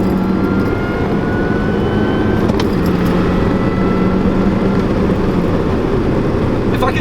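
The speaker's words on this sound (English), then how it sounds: "Let's hit a little third gear pull." A 2005 Mini Cooper S with a supercharged engine pulls hard in third gear, a steady loud drone of engine and road noise holding constant throughout with no break.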